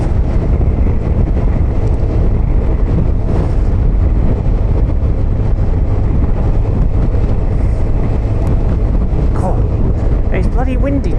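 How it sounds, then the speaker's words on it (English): Strong coastal wind roars and buffets the microphone nonstop, loud and close, with brief voices and motorcycle-area background underneath. "Bloody windy today on the coast."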